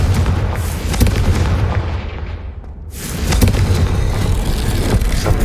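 A Confringo fire spell explodes in the Hogwarts Legacy game, a loud continuous booming blast that dips briefly before swelling again into rumbling, crackling fire throughout.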